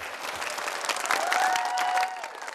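Audience applause with crowd noise for five visitors heading to Singapore, steady clapping that swells around the middle and then drops off, with a faint tonal line running underneath.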